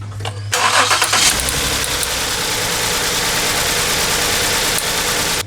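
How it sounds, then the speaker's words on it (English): A Ford Edge engine with a misfire cranks briefly, catches and settles into a steady, loud idle close by. "I'm going to start the car and see if it blinky blinks."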